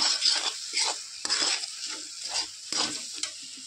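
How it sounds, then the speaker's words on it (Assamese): Milk powder mixture for barfi being stirred in a pan, a spoon scraping in steady repeated strokes over a soft sizzle, close and moderately loud with no voices. "এতিয়া ভালদৰে মই লৰাই থাকো"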